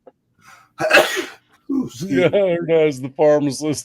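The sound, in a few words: sneeze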